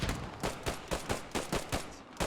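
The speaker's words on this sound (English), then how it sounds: "Grenades and rifle fire going on everywhere." Rifle fire and explosions from Post Scriptum pop in a rapid, irregular series of about a dozen sharp reports, moderately distant and fairly even in loudness, with no voices present.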